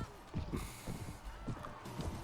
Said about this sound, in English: Okay, we've got a horse. Excellent. Let's just keep riding.